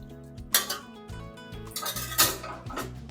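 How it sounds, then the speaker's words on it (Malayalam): Mango pickle being mixed with oil in a pot, with a few clinks and scrapes of a spoon against the metal rim in short, irregular bursts. No speech. "എല്ലാം ഒന്ന് മിക്സ് ചെയ്ത് നോക്കട്ടെ."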